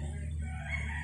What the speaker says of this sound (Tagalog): Ayun, nandito kami sa pang manok panabong RR King Paul.